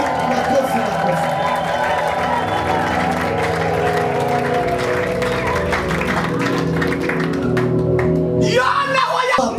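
A church congregation applauding and cheering, a loud sustained roar of clapping, shouts and ululating voices filling the room, with mixed vocal sounds running through it and a brief shift near the end.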